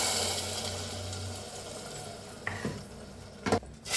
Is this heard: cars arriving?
no